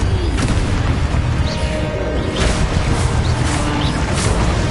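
Spell explosions in the Hogwarts Legacy video game keep booming and crashing at a loud level throughout, with dense rumbling and bursts piling on top of each other and no clear pause between them.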